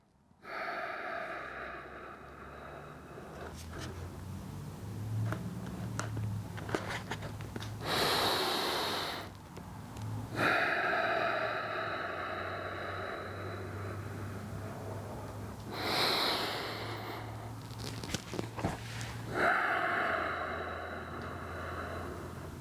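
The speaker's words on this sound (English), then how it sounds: "I'm going to stop talking to see if I can get some release in here by breathing" Slow, deep breaths are taken during a lower back stretch, each long inhale and exhale loud and close to the microphone, separated by quieter gaps, with a low hum underneath.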